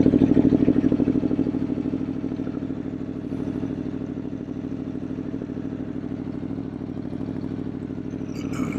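An Aprilia Tuono motorcycle engine running steadily at a rhythmic low idle, close and loud throughout, with a faint clatter on top.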